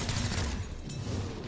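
Gunfire in the XCOM: Chimera Squad video game, a loud close volley of shots with rumbling impacts that thins out toward the end, with no voices over it.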